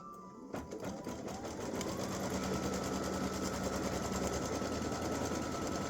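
A sewing machine stitching an appliqué down onto a T-shirt starts up after a brief pause, then runs in a steady, close, rapid mechanical whir with no talking.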